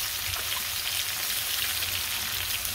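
Pumpkin fries in a pan with a steady close sizzle, salt added, and it is stirred now and then, bringing a faint scrape under the crackle.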